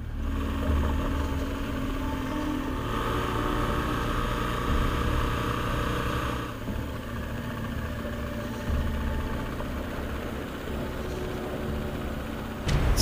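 A motorcycle rides a rough off-road stretch of road under construction in Ecuador, with a steady, loud engine drone and wind rumble running unbroken throughout.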